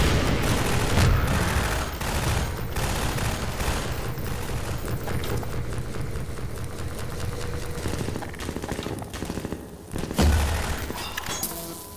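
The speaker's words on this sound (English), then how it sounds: "Why are you shooting that? Okay, I guess we're all shooting it." Gunfire in the Half-Life 2 video game is heard as dense, continuous volleys of shots with booming impacts, loud and close throughout with no speech.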